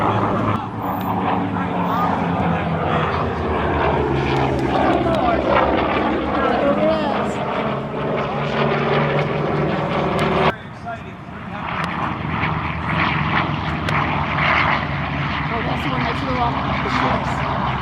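A Vought F4U Corsair propeller aircraft at an air show drones steadily overhead, loud and sustained, with talk underneath.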